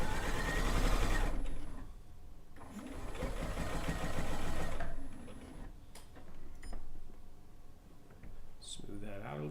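Sewing machine stitching down quilt binding, its motor whirring in steady bursts of fast rhythmic needle clatter separated by short pauses, close and fairly loud.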